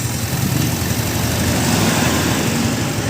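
A Yamaha Mio M3 scooter engine runs steadily nearby, a loud continuous buzzing drone with an even rhythm and no talking over it.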